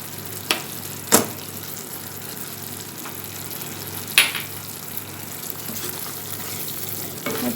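Carrot halwa with cardamom powder is stirred in a pan over low heat, a faint steady hiss of cooking broken by a few sharp scrapes and knocks of a spoon, close up with no voices.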